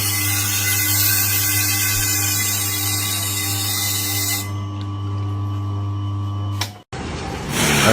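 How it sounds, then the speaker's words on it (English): A rotating abrasive wheel sharpening a dull knife blade gives a steady, loud machine drone with a strong low hum and a bright grinding hiss, which shifts briefly near the end. "A rotating abrasive wheel uses controlled friction to sharpen dull knife blades precisely."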